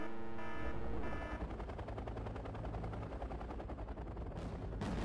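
Rapid anti-air gunfire in the real-time strategy game Wargame: Red Dragon, shooting aircraft out of the sky: a continuous rattling stream of fast automatic shots, fairly faint and distant, with no talk.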